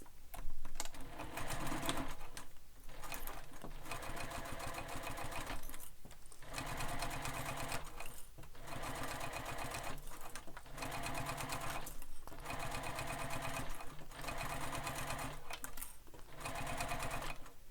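Sewing machine stitching a basting seam on a sling pack, a steady rapid mechanical whir running in bursts of about two seconds separated by brief pauses, close and alone.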